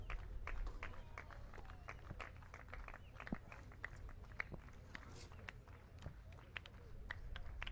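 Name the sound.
baseball crowd clapping at McKeon Park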